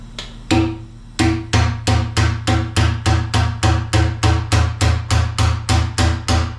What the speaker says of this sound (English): That really loud popping noise is the valve going down and the air coming out.